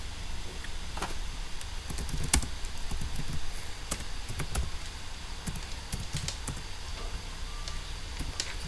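Steady light clicking of a computer keyboard while writing JavaScript code, scattered keystrokes with a couple of sharper key taps, including a Ctrl S save shortcut, heard close over faint room hum with no talking.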